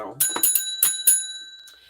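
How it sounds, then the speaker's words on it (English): A small bell rings close by, about four or five bright struck tones in quick succession that leave a ringing tail fading out. "the bell has rung"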